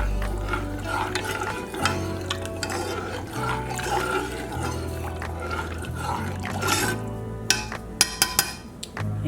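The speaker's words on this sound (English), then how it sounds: "add that last half a cup of rum. Give that a good stir" Rum being stirred into a cake mixture or soaking syrup in a kitchen, a steady scraping and sloshing stir with liquid swishing, close and moderately loud, ending with a few sharp clinks.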